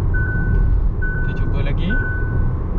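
Hyundai Kona electric car sounding its hands-off steering warning, a series of short evenly spaced electronic beeps inside the cabin over road and motor rumble, with a brief voice partway through.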